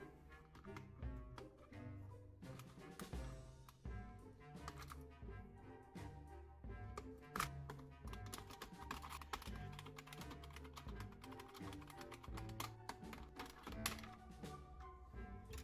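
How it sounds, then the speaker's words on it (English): Plastic keycaps are popped off an old IBM Model M2 keyboard, giving dense, irregular clicking and snapping that comes quick and close, with quiet handling in between. "Then it was time to pop the keys."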